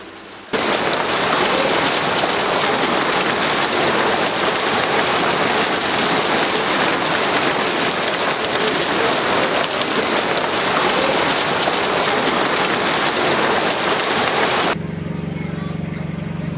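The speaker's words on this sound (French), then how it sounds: "la pluie." Heavy rain pours down loudly and steadily, a dense hiss of drops on surfaces that continues without a break and then eases slightly at the end.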